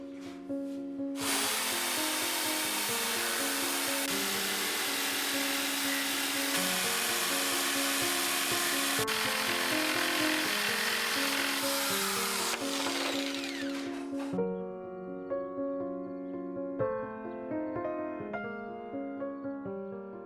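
A power saw cuts through an MDF board for a home-built TV console, a loud continuous whine with a steady grinding rasp under it for about fourteen seconds before the blade winds down with ringing tones.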